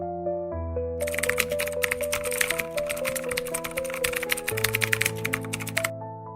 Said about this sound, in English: I typed slowly.